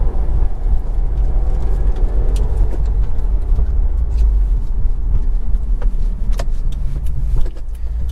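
A Subaru WRX Premium at a dealership runs with a steady, loud, low engine rumble throughout, close to the microphone, with a few faint clicks and ticks on top.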